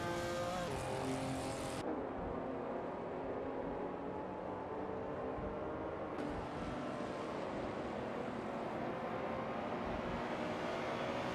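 Ford race cars in a Le Mans racing video game whine and roar along the track in a continuous, dense engine drone, the pitch shifting as cars pass.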